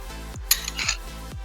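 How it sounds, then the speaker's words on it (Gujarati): A spoon stirs Oreo biscuit powder into churned ice cream mixture for cookies and cream ice cream, giving a brief cluster of clinks and scraping against the bowl midway, fairly close, over a steady musical background with no talking. "હવે આપણે એને પ્રોપર મિક્સ કરી લઈશું."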